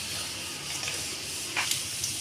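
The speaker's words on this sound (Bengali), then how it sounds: "জিরে ফোড়নে দিয়ে দিলাম" Cumin seeds sizzle in a little hot white oil in a kadai. The crackle is faint but steady, with a few brief louder bursts near the end.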